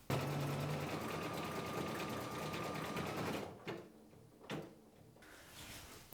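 Brother Innovis embroidery machine stitching a design, a steady fast mechanical whir and clatter for a few seconds that then stops, followed by a couple of soft clicks and knocks.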